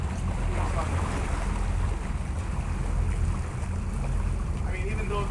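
Steady wash of water and wind rumble around a moving boat, with a constant engine-like drone and gusty noise throughout.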